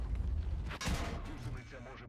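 A heavy tank cannon blast in the video game World of Tanks, from a Jagdpanzer E100, booms over a rumbling engine-like background, followed by a lingering rolling echo; a voice murmurs faintly underneath.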